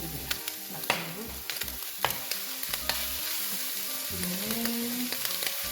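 Dried squid strips are stir-fried in three spoons of oil over low heat, giving a close, continuous sizzle with scraping and tapping from a spatula at irregular intervals. No voices are heard.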